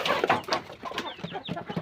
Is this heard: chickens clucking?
yes